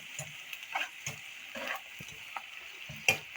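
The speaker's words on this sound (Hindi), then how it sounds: "अब हम 1 टेबल स्पून लहसुन अदरक का पेस्ट शामिल करेंगे। इसको भी थोड़ा सा साथ फ्राई कर लेते हैं" One tablespoon of garlic ginger paste frying in a pan for egg bhurji, a quiet sizzle broken by intermittent spatula scrapes and stirring taps.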